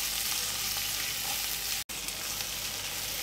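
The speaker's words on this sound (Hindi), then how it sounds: "और प्याज को हमने भुनना है, इसे थोड़ा सॉफ्ट कर लेंगे हम।" Onion fries in a pan until soft for a gram-flour and onion curry, giving a loud, steady, close sizzle throughout with one very brief dropout midway and no talking.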